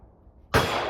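A single sharp, loud rifle shot rings out at an outdoor shooting range after a brief quiet moment, its blast tailing off into a sustained echo.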